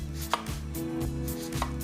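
An onion is chopped with a knife on a board in a home kitchen, quick steady knife taps in a fast even rhythm, close and distinct with no talking.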